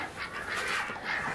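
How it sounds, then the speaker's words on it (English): Chickens on a Wisconsin farm cluck softly in the evening, a faint, continuous murmur of bird calls at a distance with no talk. "But by now all the chickens will come in and they'll be on their roof."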